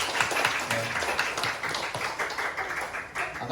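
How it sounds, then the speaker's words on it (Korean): A church congregation applauds to welcome newcomers at a Sunday service, a steady wash of many hands clapping at moderate level for several seconds, with faint voices mixed underneath. "우리 박수로 환영합시다"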